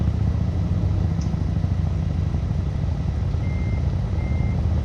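A truck engine idles in a trucking video game, a steady low rumble with a faint beep or two over it and no talk.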